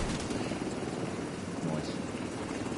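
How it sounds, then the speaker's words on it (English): A helicopter in the video game The Division 2 drones steadily with a loud, continuous rotor wash that fills the scene. Players talk over the noise. "helicopter approaching"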